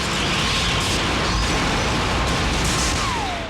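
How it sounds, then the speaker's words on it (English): Grenade explosion in a sci-fi horror film, set off by guards: a loud, dense roar of blast and rumble that fills the whole stretch and stays strong throughout, with mechanical debris noise and no speech. "The guards deploy a grenade against the vampires, appearing to be effective."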